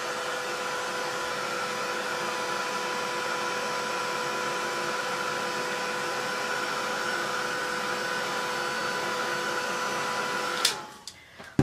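A hair dryer runs steadily on distress paint, a constant loud whirring hum that holds for about ten seconds before switching off abruptly near the end.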